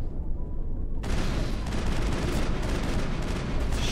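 Loud, sustained automatic gunfire in the video game Mass Effect during a fight with husks, breaking in suddenly after a quiet second and continuing as a dense, unbroken fusillade.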